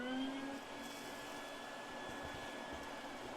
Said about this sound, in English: now we can simply vacuum it up